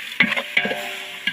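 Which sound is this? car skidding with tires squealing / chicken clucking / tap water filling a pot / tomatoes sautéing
tomatoes sautéing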